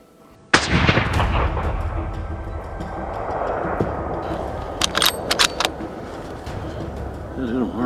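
A single sharp rifle shot rings out during an elk hunt in Idaho, loud and close, followed by a long echoing rumble across open country as several voices talk excitedly.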